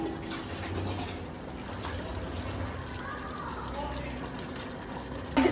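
Water pours into simmering meat with tamarind, a steady broadband trickling and splashing under low kitchen background noise, with a brief louder clatter at the very end.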